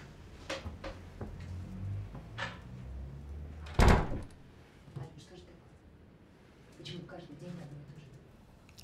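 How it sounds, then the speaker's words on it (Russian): An indoor door is closed with a single solid thud partway through, amid shuffling and movement, while people talk before and after. "И дверь прикрой."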